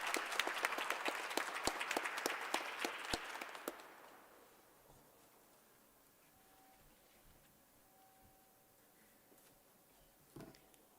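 Applause for interns at a fall intern graduation ceremony, a burst of clapping that is loud for about four seconds, then fades out into quiet room noise with a faint tone and a single brief knock near the end.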